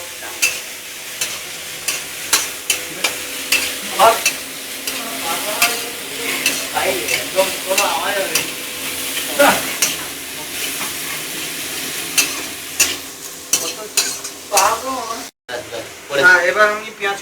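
Chow mein being stir-fried in a pan, with a steady sizzle and repeated clanks of stirring throughout, while a person talks over the cooking.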